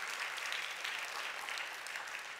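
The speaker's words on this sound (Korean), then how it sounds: "다시 한번 우리 감사와 격려의 박수 한번 보냈으면 좋겠습니다." A church congregation gives brief, steady applause, a fairly faint and even patter of many hands clapping throughout.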